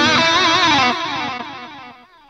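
An electric guitar played through the workhorse drive block of a Fractal AX8 gives a loud, distorted sustained chord that rings out and slowly fades over about two seconds.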